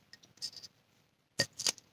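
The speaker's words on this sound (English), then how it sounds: "we're going to take the scissor and cut it" Scissors snip through striped ribbon in two brief, crisp bursts, one near the start and a louder, closer pair toward the end, with quiet pauses between.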